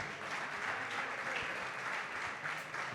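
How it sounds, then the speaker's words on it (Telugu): An audience claps together at a Christian World Music Day celebration in Hyderabad, a steady dense wash of applause lasting the full three seconds at moderate volume. "చప్పట్లు."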